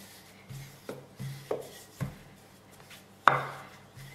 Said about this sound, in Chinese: 擀到一半的时候，我们给它翻面，这样让它层次更加的均匀。